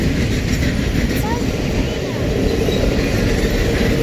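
A Norfolk Southern intermodal freight train passes close by at a railroad crossing with a steady, loud rumble and faint wheel clatter, and people talk briefly over it.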